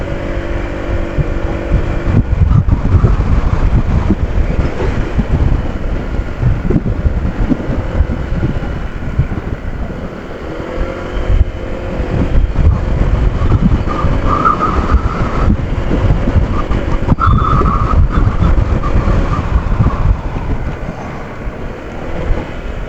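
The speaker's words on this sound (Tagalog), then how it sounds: "Lakas ng hangin." Strong wind buffets the microphone on an outdoor ride, a heavy, continuous low roar that swells and eases over about twenty seconds, loud and close, with no talking.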